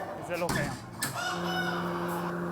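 Featherless, bare-necked chickens in a poultry setting cluck and crow steadily at close range, with a faint voice under the birds.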